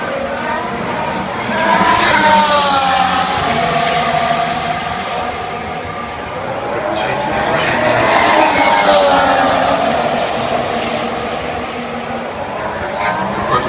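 Race cars speed along a track, engines screaming loudly as they pass by in rising and falling sweeps, one after another.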